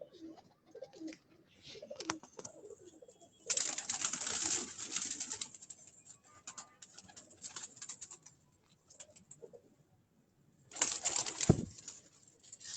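Rooftop pigeons give soft, faint coos and make a couple of louder bursts of wing flapping, with quiet gaps between them.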